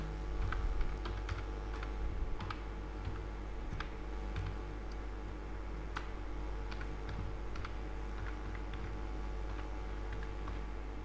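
Someone types an email address on a computer keyboard, a steady run of soft, close keystrokes over a constant low hum.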